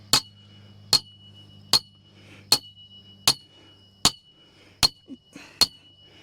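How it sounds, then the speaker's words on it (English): Eight sharp, ringing metallic strikes land at a steady pace of about one every 0.8 seconds as a metal tension bar for a Quonset greenhouse end wall is hammered into the soil, close and distinct over a low hum. "or you can hammer it in"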